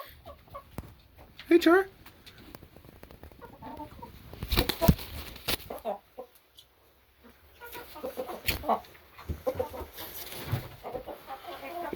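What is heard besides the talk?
chickens clucking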